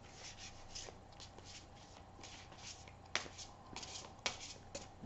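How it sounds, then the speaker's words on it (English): Tarot cards being shuffled by hand, soft riffling and rubbing with a few sharper snaps near the end, close and quiet. "give this a couple shuffles"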